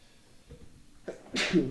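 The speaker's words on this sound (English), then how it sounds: "I'm gonna sneeze." A single loud sneeze bursts out after a short quiet intake of breath, close to the listener.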